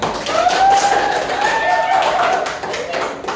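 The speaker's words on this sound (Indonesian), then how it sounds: "Kasih tepuk tangan." Students in a classroom clap as a group comes forward to the front; brief, fairly loud clapping with a teacher's voice talking over it.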